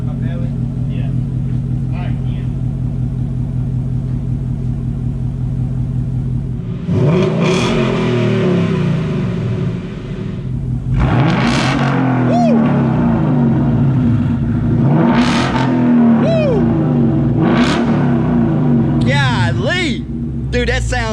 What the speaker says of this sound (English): So now we're gonna rev it, and we're gonna see how it sounds.